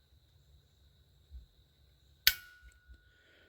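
The trigger of a Kel-Tec P17 rimfire pistol snaps once on a trigger pull gauge, a single sharp, close click that rings briefly and stands out from quiet handling noise.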